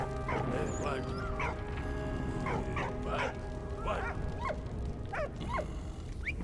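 A cartoon dog in the World War I video game Valiant Hearts gives a series of yipping barks and whimpers at a steady pace over constant game background noise.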